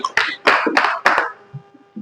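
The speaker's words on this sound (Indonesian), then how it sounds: "kasih tepuk tangannya" A few distinct hand claps in a classroom, four sharp claps in quick succession followed by softer scattered sounds, close and fairly loud.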